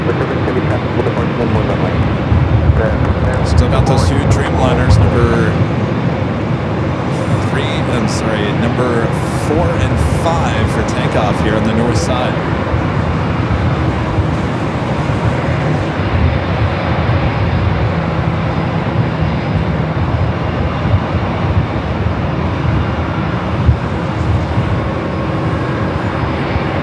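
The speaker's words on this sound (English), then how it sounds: "Heading back to Panama City, now rolling down the 24 left." An airliner bound for Panama City rolls down runway 24 left at LAX, a loud continuous rumbling roar of engines and wheels heard from nearby, with a voice talking over it throughout.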